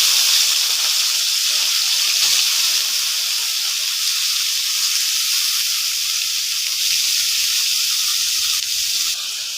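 Chopped vegetables sizzle loudly in a pan of lightly fried onions, a steady, bright frying hiss that carries on without a break, close up and with no talk.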